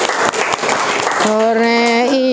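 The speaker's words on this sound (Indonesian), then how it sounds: "tepuk tangan dulu dong" A history class applauds at an old Dutch-era market, a brief burst of many hands clapping, close and fairly loud, that gives way midway to a clear sustained voice.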